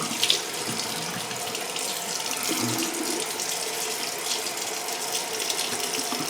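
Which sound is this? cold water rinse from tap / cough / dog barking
cold water rinse from tap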